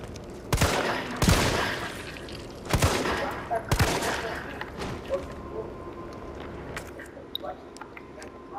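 Gunfire in the Resident Evil 3 remake video game: four loud, sharp shots in irregular succession in the first four seconds, then scattered fainter pops and clicks.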